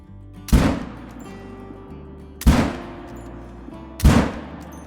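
Three loud rifle shots spaced about two seconds apart, each with a sharp crack and long echoing tail, fired at red deer with iron sights in the Call of the Wild hunting game.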